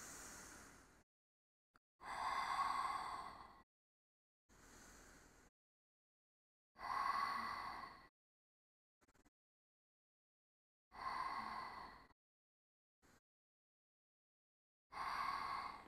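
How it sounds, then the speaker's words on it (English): Deep, slow breaths during a foam roller exercise session, about five long breaths with silent pauses between them, heard close and alone in a quiet room with no talking. "Deep breath in."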